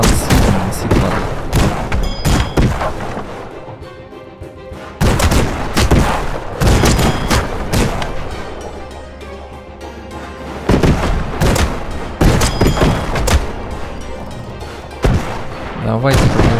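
Heavy cannon fire exchanged between airships in the video game Airships: Conquer the Skies, loud repeated booming shots in dense bursts with brief lulls between volleys.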